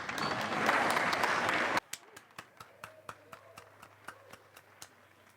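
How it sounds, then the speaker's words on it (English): A burst of full clapping cuts off abruptly, followed by slow, sparse single claps spaced about half a second apart, a light polite golf clap, with faint talk underneath. "Golf clap."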